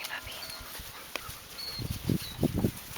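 Young puppies whimper and snuffle close by, with soft scattered squeaks early on, then a cluster of low, rhythmic yips and pants toward the end.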